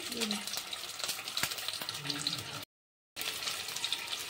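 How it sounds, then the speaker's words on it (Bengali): Hard-boiled duck eggs fry lightly in a little hot oil in a kadai, giving a steady crackling sizzle with occasional stirring clicks, broken by a brief gap of silence. "কড়াইটা গরম হয়ে গেলে সামান্য তেল দিয়ে হালকাভাবে ডিমগুলি ভেজে নেব"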